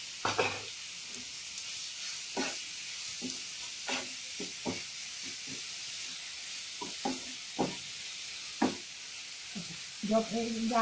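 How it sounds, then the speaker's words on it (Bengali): Grated carrot filling is stirred in a pan with a soft background sizzle, the spoon scraping in irregular short strokes throughout, closer and busier toward the end. "গাজরটা নাড়া দেওয়ার সময় বেশিক্ষণ হয় না"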